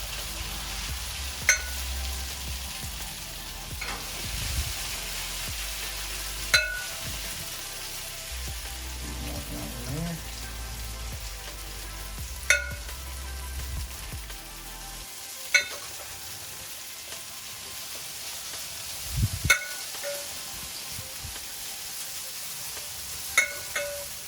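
Hash browns frying on a griddle give a steady broadband sizzle throughout, with occasional sharp clicks and taps of a spatula, and a low background hum that drops out partway through.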